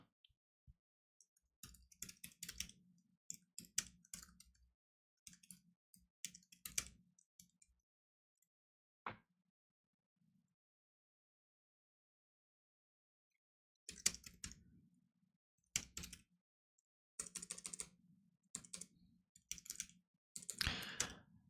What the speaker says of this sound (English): I'm actually going to sit here on stream and just type this stuff out.